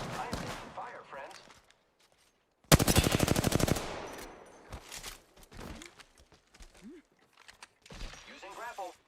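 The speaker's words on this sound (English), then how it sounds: "I am taking fire, friend." Video game gunfight: a loud burst of rapid automatic fire lasting over a second, then scattered quieter shots and impacts, with a voice talking before and after.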